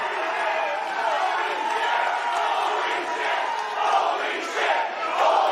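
A large crowd shouting and chanting in unison, a steady roar with rising swells, heard from within a big arena.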